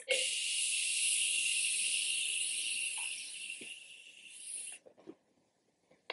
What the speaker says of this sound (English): I'm gonna go ahead and set my face with the Morphe Continuous Setting Mist